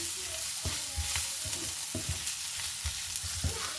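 Spice mix with turmeric powder being stirred in a pan for fish cutlets, a steady sizzle with repeated scraping strokes of the spoon every half second or so, close and fairly loud.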